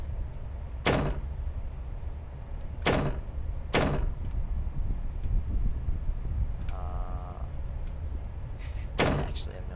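Inside the video game Ao Oni 2, a locked door is tried repeatedly, giving sharp rattling thunks spaced a second or two apart over a steady low background hum, loud and close.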